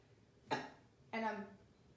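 Two short, close coughs about half a second apart, made during a diaphragm breathing exercise, each a sharp burst that fades quickly against a quiet room.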